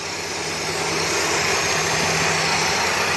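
A Mitsubishi 4G18 engine idles steadily in a Proton Waja, a continuous broadband hum with a low, even tone and no dips in level throughout.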